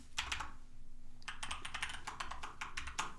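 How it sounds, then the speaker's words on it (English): Someone types on a computer keyboard: quick bursts of close key clicks, a short pause, then a denser run of taps in an uneven rhythm over faint background hum. "when you start typing in the function"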